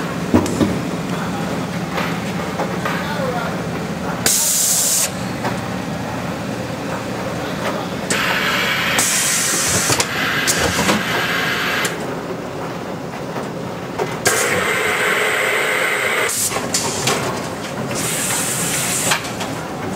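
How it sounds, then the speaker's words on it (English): A Loveshaw CF-50 case forming machine runs its automatic cycle, with a steady mechanical drone broken by repeated bursts of loud pneumatic hissing and clatter, close up with no talk. "We can go ahead and start the machine. The machine has two cycles, automatic and manual."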